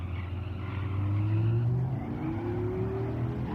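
Dodge Tomahawk X engine in Gran Turismo 7 roaring steadily at high revs, pitch climbing then holding, loud and close with no talking.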